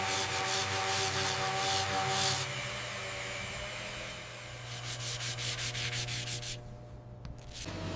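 Coarse-grit sanding works a Brahman bull horn in a horn processing factory, giving a continuous rough rasping rub over a steady machine hum, with rhythmic strokes toward the end and no voices.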